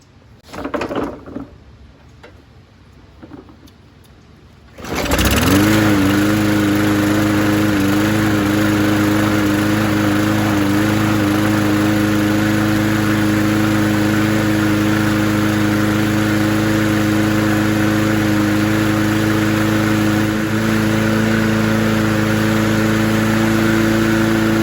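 A 2017 Yard Machine 20-inch push lawn mower, previously fixed for a broken carburetor, fuel line and water in the fuel, is quiet at first with some faint handling noises, then starts suddenly near five seconds and runs loud and steady at a constant idle with no talking.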